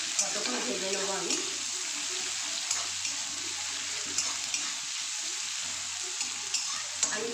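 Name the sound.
medium onions frying in a pan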